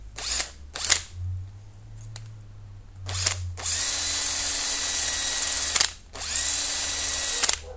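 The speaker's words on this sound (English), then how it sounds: "Let's try it on the drill." A 3-speed electric drill drives a hedge trimmer blade sharpener, starting with short clicks and brief bursts, then two long, loud sustained whirring runs with a steady grinding hiss, close by.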